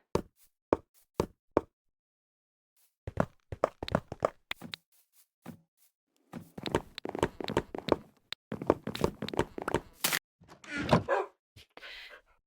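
A pet dog in Minecraft barks in short repeated yaps, fairly faint, after a series of sparse sharp clicks and knocking taps, with the barks and taps clustering more densely toward the end.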